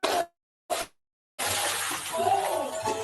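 Glass windows are smashed by rioters: two short sharp crashes with silence between, then a longer sustained burst of shattering and scattering debris.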